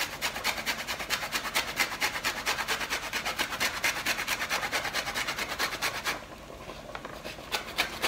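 Orange peel is scraped for a homemade vitamin C serum, making a rapid, rhythmic rasping that carries on steadily for about six seconds, then stops. A few quieter scrapes follow.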